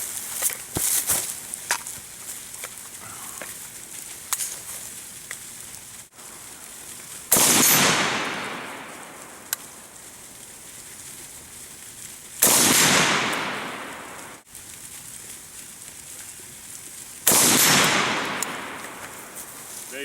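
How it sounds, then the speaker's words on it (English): Three loud, sharp rifle shots from a Waffen Werks AK-74 fired at a 100-meter target, spaced about five seconds apart, each cracking hard and trailing off in a long fading echo. "Let's go ahead and take a few shots here at 100 meters"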